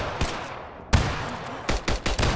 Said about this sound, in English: Fire the weapon!